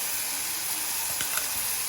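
Ingredients sauté in a pan with a steady, hissing sizzle close up, broken by a couple of faint clicks and scrapes.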